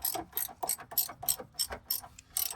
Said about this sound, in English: I can just keep ratcheting this until the bushings start to bulge